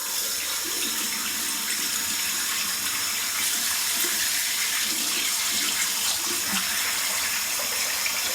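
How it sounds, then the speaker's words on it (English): Tap water runs steadily into a bathroom sink while preparing for a budget wet shave, a continuous close splashing hiss with no voices over it. "Get some water in the sink"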